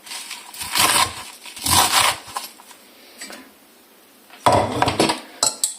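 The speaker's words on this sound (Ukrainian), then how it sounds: "Кладемо цю кастрюльку." Metal pots and cookware clank and clatter in several separate bursts in a kitchen, a saucepan being set down, close by, with quiet pauses between them.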